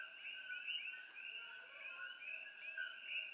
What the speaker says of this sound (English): Now you hear the frogs.